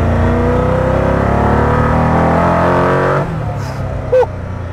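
A Koenigsegg Agera RS1 hypercar's engine roars loudly and steadily under acceleration, a dense rising drone heard from close range that cuts off abruptly near the end, followed by a short squeak.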